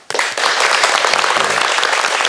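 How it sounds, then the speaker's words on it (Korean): A lecture audience claps to welcome a professor to the stage, dense applause starting abruptly and holding steady for a couple of seconds. "어떤 말씀 주실지 박수로 청해드릴까요?"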